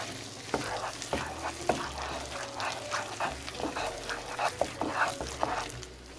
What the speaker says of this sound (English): Another technique that helps me keep these whipped is I give it a good stir.